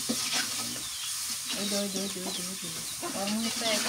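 Spices sautéing in a pan in a rural village kitchen, a steady close sizzle with stirring, while hens cluck nearby and voices murmur in the background.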